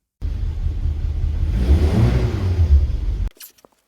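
A Ford Cortina's engine runs with a steady low rumble for about three seconds as the car is driven forwards and backwards, then cuts off abruptly.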